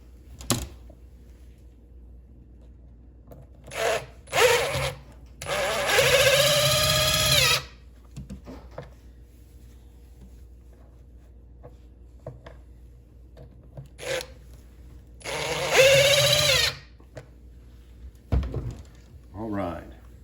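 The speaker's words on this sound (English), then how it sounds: "Just put a couple screws here in the latch." Screws being driven into a latch on an old bass boat, with two sustained buzzing runs of a driver and scattered knocks and clicks, a voice talking briefly in between.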